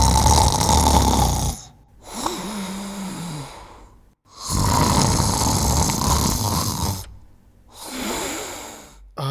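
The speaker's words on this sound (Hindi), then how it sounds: "इस समय खर्राटे मारकर कौन सोता है?" Loud, close snoring from a sleeping person, with long rasping inhalations and snorts in a slow repeating rhythm separated by brief silent pauses.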